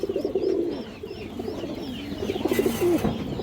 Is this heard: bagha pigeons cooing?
yes